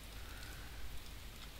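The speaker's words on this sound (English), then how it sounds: "it's actually raining" Steady rainfall in the survival video game The Infected, a dense, even hiss of drops with a soft low rumble, continuous and fairly quiet, with no voices over it.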